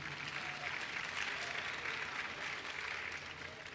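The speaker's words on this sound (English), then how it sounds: "A great round of applause to our great MCs here" Steady audience applause at a Diwali gathering, a dense, even clatter of many hands sustained throughout at moderate volume with no talking over it.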